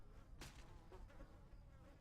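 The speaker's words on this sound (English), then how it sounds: "flies buzzing around right now" Ambient flies in the video game Left 4 Dead 2, a faint, continuous buzzing drone with a few louder passes, and no talking.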